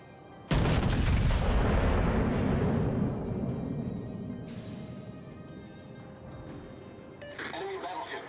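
Heavy warship guns fire in World of Warships, a loud booming salvo that rolls into a long fading rumble, with later distant shots and game chatter near the end.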